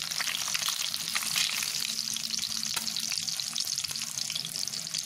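Hilsa fish fries in oil in a home kitchen, a close, steady crackling sizzle with occasional stirring scrapes, continuous and alone.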